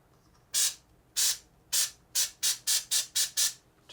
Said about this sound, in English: I'm gonna spray some over here on the bottom.